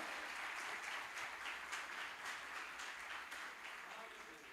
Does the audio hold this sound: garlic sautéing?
no